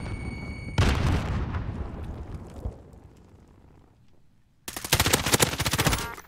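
Call of Duty Warzone combat with a grenade blast and gunfire: a loud burst that decays slowly, then a quieter lull, then a dense, rapid burst of automatic fire close by.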